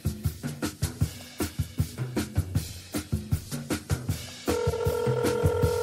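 Telephone keypad tones dialing a call on a radio show, a quick run of short evenly spaced beeps followed by a sustained ringing tone, loud and close with no talking.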